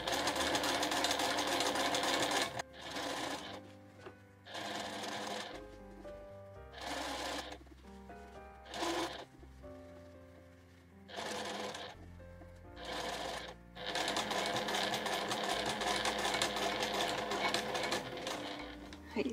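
A sewing machine stitches a fabric pouch in loud, close mechanical runs lasting a few seconds each, separated by short pauses, with a long steady run at the end.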